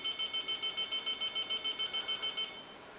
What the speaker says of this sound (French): le même signal que celui émis lors de l'activation de l'alarme avec une fenêtre ouverte retentit